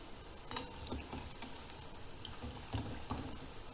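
Malabar spinach fritters frying in oil on medium heat, a faint continuous sizzle with a few soft clicks and taps as they are turned over.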